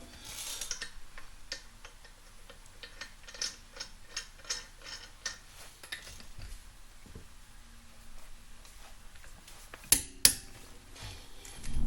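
A ratchet clicks rapidly while wheel spacer nuts are torqued down on a Chrysler 300S, quick even ticks in short bursts, close up, ending with a couple of louder metallic clanks.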